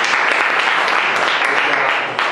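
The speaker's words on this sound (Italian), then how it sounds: "applauso." An audience at a football academy press conference breaks into applause, loud and sustained clapping from many hands filling the room without pause.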